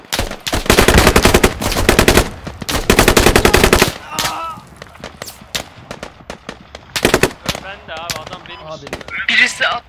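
Gunfire in the military shooter Squad during urban fighting in Logar Valley: two long, loud bursts of automatic fire close by, then scattered single shots and more distant bursts, with players talking between them.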